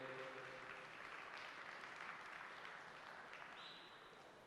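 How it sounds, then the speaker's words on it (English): Faint, distant applause from an audience for exhibitors at an equine arena show, a soft continuous clapping wash that gradually thins toward the end. "Let's start out with giving these exhibitors a round of applause"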